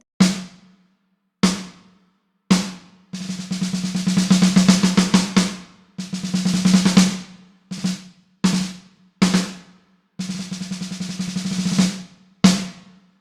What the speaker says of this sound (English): So I did change the snare to this TrueCast Bronze DW snare.